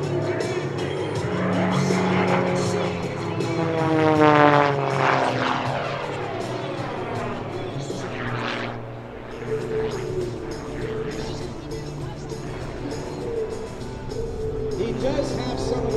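MXS aerobatic propeller airplane flying a knife-edge flat spin and nose-down recovery at an air show, its engine roaring and rising and falling in pitch as it swoops past, with an announcer speaking over it.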